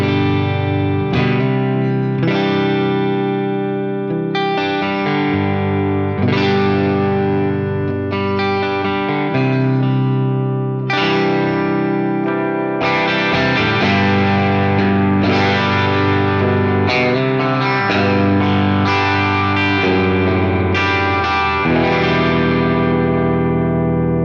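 Distorted electric guitar plays chords and riffs through a Nux Solid Studio pedal's power amp simulation, with a thick amp-like tone and light echo, steady and loud throughout.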